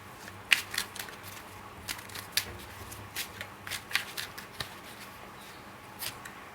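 Tarot cards being shuffled by hand, a series of quick riffling bursts and soft slaps at an uneven pace, close and fairly quiet, with no talking.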